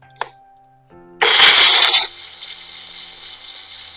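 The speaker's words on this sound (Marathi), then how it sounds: "आता हे आपण मिक्सरला फिरवून घ्यायचं" After a faint click, a mixer grinder blending tomatoes roars loudly for about a second, then cuts off, leaving a quiet hum.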